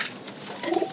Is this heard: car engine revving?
no